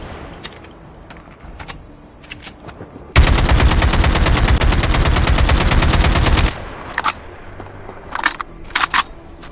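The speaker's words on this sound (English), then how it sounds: "First, let's see the daddy of all assault rifles, AK-47." An AK-47 assault rifle fires in the mobile shooter game COD Mobile as one sustained, loud full-auto burst of about three seconds, with quieter game clicks and handling sounds before and after.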